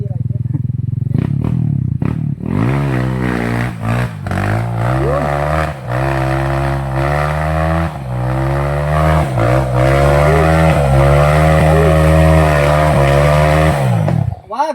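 Trail motorcycle engine revving hard and straining as it fails to climb a steep slope, loud and close with a sustained strained drone and repeated throttle surges, while people talk over it.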